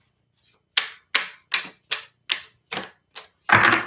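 Tarot cards slapping down one after another during a reading: eight sharp, evenly paced snaps, each a brief crisp burst, ending in a longer, louder rustle as more cards drop.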